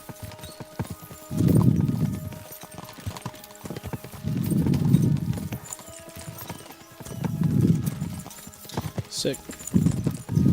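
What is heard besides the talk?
horses galloping in Kingdom Come: Deliverance 2 video game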